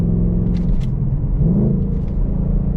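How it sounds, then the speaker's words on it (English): A 2022 Ford Mustang Mach 1 with a six-speed manual and Handling Package blips its engine to match revs during a shift on a back road, a steady rumbling drone with a brief rising swell midway, heard from inside the car. "As you can hear, it does have that automatic rev match"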